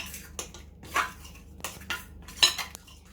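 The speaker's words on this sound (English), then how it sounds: "Make sure all the ingredients are really well mixed together." Muffin ingredients are mixed by hand in a bowl, with a spoon clinking and scraping against the sides in irregular bursts, close up and moderately loud in a quiet kitchen.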